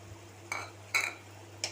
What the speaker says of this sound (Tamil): நல்லா ஒரு தடவை கிண்டி விட்டுக்கோங்க,